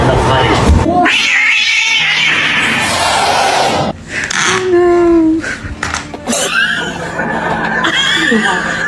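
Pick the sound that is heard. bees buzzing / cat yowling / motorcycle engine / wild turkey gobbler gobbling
cat yowling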